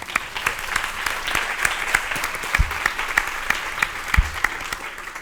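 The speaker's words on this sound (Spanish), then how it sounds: "vamos a darle también un fuerte aplauso" An audience at a feminist intergenerational gathering claps steadily, a moderate round of applause with scattered sharp claps throughout and no voices over it.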